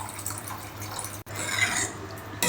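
Water is poured into a pot of tamarind pulusu for a lady finger curry, a close, steady splashing pour with one brief break partway through.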